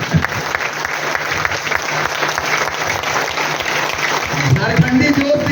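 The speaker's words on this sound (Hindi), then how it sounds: "एक बार जोरदार तालियां सर के लिए।" Loud, sustained applause from a seminar audience in a hotel hall, dense clapping filling the whole stretch and swelling near the end, with some voices mixed in.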